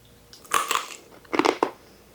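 Crisp crunching of a baked corn tortilla chip being bitten, a few sharp bursts of crackle, then a second loud crunching bite close to the ear.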